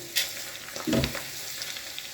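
Onion and carrot sizzle steadily in a pan while a utensil stirs them, with one clear scraping stir partway through.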